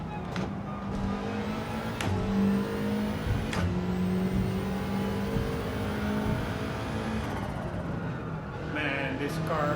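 A race car engine drones and revs in Gran Turismo 7, a steady mid-loud engine hum with shifting pitch and brief gear-change spikes, heard alongside a talking voice.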